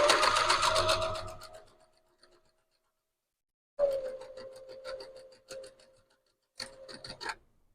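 A sewing machine stitches tiny curves for doll arms in rapid bursts of close mechanical whirring, a long run at first, then a silent pause, then two shorter runs of stitching.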